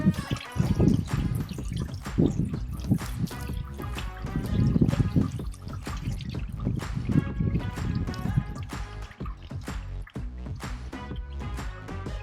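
Water poured over a car air filter to clean it, splashing and trickling continuously with irregular dripping bursts and uneven surges, close and moderately loud, with no talking.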